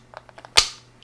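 A tight resin door popping off a Vicious Ant Spade SX485J vape mod: one sharp, loud snap midway, preceded by a few soft scraping clicks and followed by a brief fading ring.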